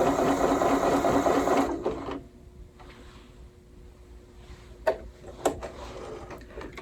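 Bernina Series 3 sewing machine stitching fabric, a loud steady whir for under two seconds, then stopping, followed by quiet room tone and a couple of sharp clicks.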